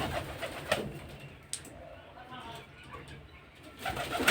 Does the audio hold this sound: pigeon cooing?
yes